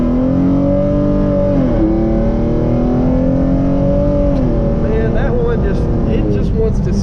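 A tuned Hyundai Genesis Coupe 3.8 with traction and stability control off launches hard from first gear, its engine roaring loud and close, the pitch climbing steadily and dropping briefly at a shift before rising again.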